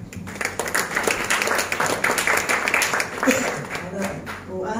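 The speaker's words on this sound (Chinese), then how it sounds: "好，谢谢你，再次给他掌声。" An audience at a business networking meeting gives a round of applause for a guest speaker, with dense, even clapping that holds steady throughout.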